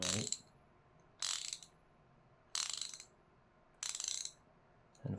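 A ratcheting tool from a toolbox is turned to tighten, four separate bursts of rapid clicking spaced about a second apart, close and clear against near silence.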